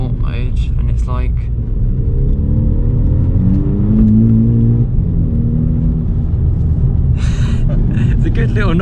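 A 2-litre Volkswagen Polo GTI engine revving in sport mode, a low steady rumble rising in pitch, with someone talking over it at the start and end.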